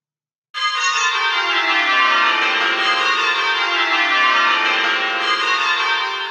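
Church bells ringing in rounds on a twelve-bell ring, a dense, continuous cascade of overlapping bell strikes that starts abruptly and stays loud and steady throughout, with no talking.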